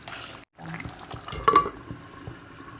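A spoon scrapes and stirs through a pot of simmering turmeric curry, making short wet stirring sounds close by after a brief silent gap.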